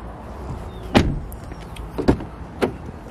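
Door of a used BMW 1 Series opening at a car dealership: a sharp latch click, then two softer clunks and mechanical whirs in a quiet cabin.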